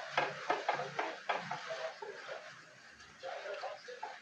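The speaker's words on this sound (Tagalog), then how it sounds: "Pag natuyo yung tubig niya, tapos i-prito lang natin siya ng kaunti" Crackling sizzle of pork frying in a pan after its water has cooked off, with stirring scrapes and clatters throughout, fairly close and moderately loud.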